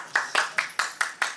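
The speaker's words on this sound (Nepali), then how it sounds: "प्रदीप कुमार कार्कीज्यूलाई स्वागत गर्दै सबैले ताली बजाउँ" Six evenly spaced claps from a single close pair of hands, sharp and regular, at a Club Fifty Nepal annual general meeting welcoming a senior vice president.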